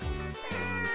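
A cat meows in the Muv-Luv Extra video game, a short, clear, close call with a slight dip midway, heard on its own.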